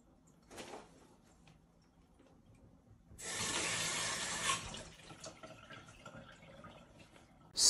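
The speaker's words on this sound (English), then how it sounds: "How I imitated the sound effect for it was just by turning on the sink handle" A sink tap is turned on, sending a burst of running water for about two seconds that then tapers into faint drips and small knocks, set up as a tavern sound effect for a game.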